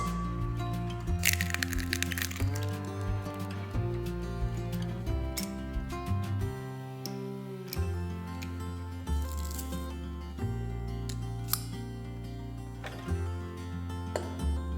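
An egg is cracked into a mixing bowl of grated cheese, giving a sharp, close crack with small wet sounds after it, set against steady background music.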